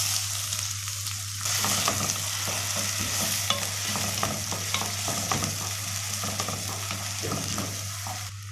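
Onion sautéing in ghee for an Egyptian taro dish with tomato sauce, giving a steady close sizzle with scraping stirs throughout, a constant low hum beneath, and no talking.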